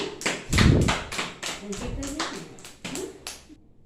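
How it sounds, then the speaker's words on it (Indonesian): Students in a classroom break into a short burst of hand clapping, close and lively, with voices over the applause. "Mari kita berikan aplaus kepada Nak Peggy"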